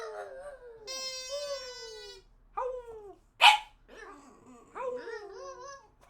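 A dog howls on command in drawn-out, wavering cries, with several separate howls and a short sharp bark or yelp in the middle, close and fairly loud.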